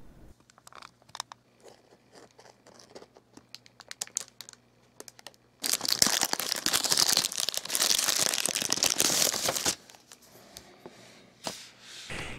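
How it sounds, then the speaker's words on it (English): Scissors snipping and slicing through the plastic packaging of a colorectal cancer screening kit, a dense crinkling, crunching burst of cutting lasting several seconds, up close, after some quieter handling rustles. "I need a pair of scissors to cut this open."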